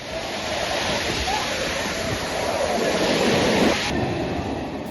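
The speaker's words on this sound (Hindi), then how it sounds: "तेज बारिश से लोगों की आवाजाही पूरी तरह से बंद हो चुकी है।" Heavy rain pours down with rushing floodwater surging along a hill path toward a temple, a loud, dense and continuous roar that lasts almost the whole stretch.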